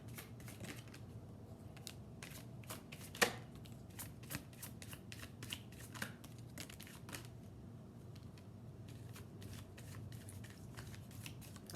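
Tarot cards are shuffled by hand in a quiet room, a run of rapid, crisp riffling clicks and flutters, close and soft, with one sharper snap partway through.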